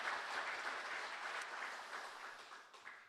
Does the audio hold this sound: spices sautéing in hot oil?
no